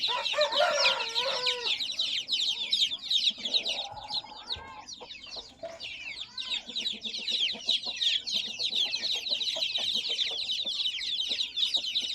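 A group of broiler chicks chirps constantly in a shed, with dense high peeping and some louder clucks and calls from nearby fowl, steady and busy throughout.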